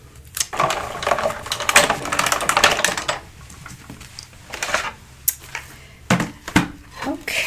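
A paper die cut being run through a die-cutting machine for a matte layer, heard as a ratcheting, clicking crank-like mechanical grind in bursts, with pauses and a few sharp knocks.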